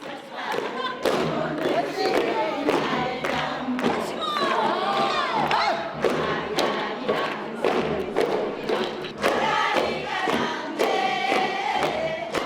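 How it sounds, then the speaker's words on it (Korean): Middle-aged women sing Korean traditional folk song together on stage while sogo hand drums thump in a steady beat, with a lively crowd cheering and shouting throughout. "중년 여성들이 무대에서 소고를 치며 노래한다."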